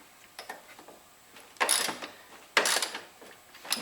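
A 1/2-inch ratchet working a front shock bolt on a 2010 Mazda3, with light clicks followed by two loud bursts of rapid pawl ratcheting up close, separated by brief pauses.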